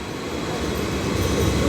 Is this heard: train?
yes